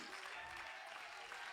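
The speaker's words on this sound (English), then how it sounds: "Come on, clap your hands to the Lord." A church congregation claps hands in praise during an evangelist's service, a brief, even roar of applause, faint and distant.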